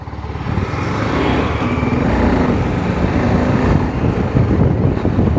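A TVS Apache RR310 sports motorcycle cruising in fourth gear gives a steady, loud engine drone, with wind rushing over the microphone throughout and no talking.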